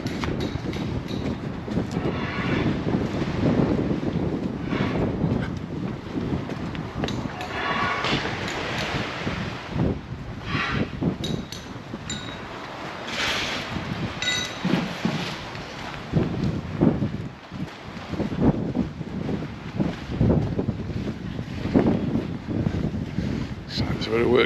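Gusty wind buffets the microphone outdoors on a breezy January day in Palmanova, Mallorca, a steady rushing roar that rises and falls across the whole stretch, with no other clear sounds standing out.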